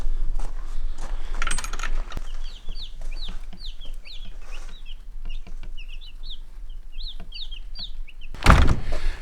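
Baby chicks peep in a rapid chirping chorus under a brooder light, with clucking, soft thumps and a loud clatter near the end; no talking.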